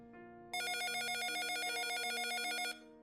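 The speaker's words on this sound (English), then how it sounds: "I woke to the sound of my phone blasting my ringtone in my ear." A phone's ringtone rings as a bright, buzzy electronic tone that holds steady for about two seconds and then cuts off, heard alone over a quiet hum.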